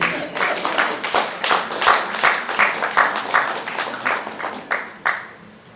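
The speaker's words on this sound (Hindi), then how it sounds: "बात अगर अच्छी लगी तो ताली वाली बजा दें।" A crowd claps steadily in loud, sustained applause at a Hindi-language educational stage presentation, with individual claps audible throughout before it tapers off near the end.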